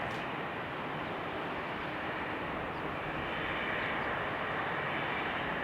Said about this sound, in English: I will answer that question, Plain Jane, as soon as KLM passes by